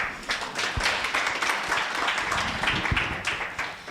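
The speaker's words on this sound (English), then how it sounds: "A hand of applause, please." Applause at a clinical research society's second anniversary gala: a sustained, even wash of clapping from a crowd with a few sharper nearby claps, continuing throughout.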